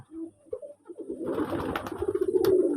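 Pigeons in a home loft at Manikganj coo and call repeatedly near the microphone, a low throaty cooing that builds into a dense, overlapping chorus of several birds.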